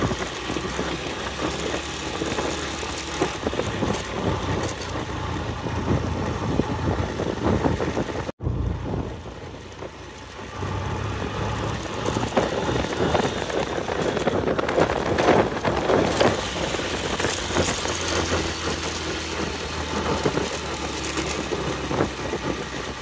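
A motorbike engine runs continuously on the road to Sajek Valley, a rough droning hum beneath heavy wind rush, briefly cut off mid-ride before resuming steadily.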